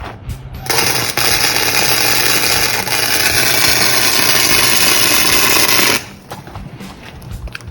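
Welder tacking a 1946 Chevy truck frame being boxed, a loud continuous crackling hiss for about five seconds that cuts off abruptly, followed by quieter shop noise.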